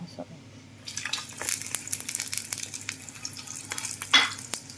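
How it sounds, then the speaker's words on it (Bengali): Egg-coated bread slices fry in a pan with a steady sizzle while utensils stir and scrape. Clinks and rustles mix in, and a voice talks over the cooking. "এটা টোস্ট করবে এখন ফ্রাই করবে"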